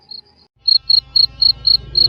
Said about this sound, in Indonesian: suara jangkrik di halaman terdengar syahdu mengantar kesenyapan malam